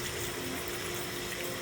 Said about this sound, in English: I'm going to add some cold water to the bottom of the tray